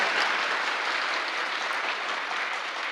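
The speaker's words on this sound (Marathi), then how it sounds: "त्या सर्व शिक्षकांसाठी जोरदार टाळ्या होत्या." A school audience claps loudly for teachers at an inspirational education talk, a dense and steady round of applause lasting throughout with no voices over it.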